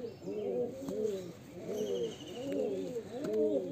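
A Murshidabadi Giribaz line pigeon coos in a steady run of about five rounded, repeating calls, close and fairly loud with no talking.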